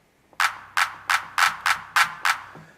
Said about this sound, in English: So let's see if we can hear a classic 909 clap.